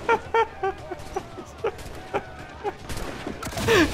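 Gunfire in the video game Assassin's Creed Black Flag: a quick series of sharp shots in irregular bursts, fairly close, ending in a louder cluster of blasts and clatter.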